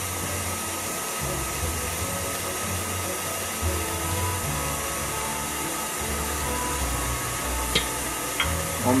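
Kitchen stand mixer whisking sponge cake batter after oil and water go in, a steady loud motor whir running the whole time, close by with no talking.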